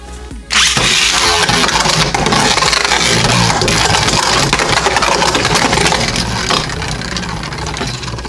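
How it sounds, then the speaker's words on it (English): A Beyblade Burst Turbo top, Silver-X Jormuntor in SlingShock mode, grinds loudly and continuously against the stadium rails, a harsh dense scraping rattle that starts abruptly and holds steady before easing slightly near the end. "you just hear that scraping and it just loses stamina"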